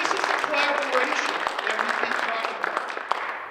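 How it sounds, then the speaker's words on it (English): Audience applause at a community state-of-the-community address, a dense steady patter of many hands clapping for several seconds, moderately loud and filling the room, with some murmuring voices mixed underneath. "Yeah, go ahead, clap."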